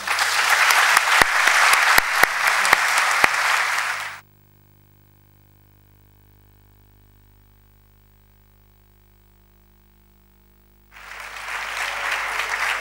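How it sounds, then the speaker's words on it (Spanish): An audience at a history conference applauds strongly for about four seconds, with a few sharp claps standing out. Near silence follows for several seconds, then a fresh burst of applause starts up at the end. "Gracias, y estos aplausos para Ángel Salvi."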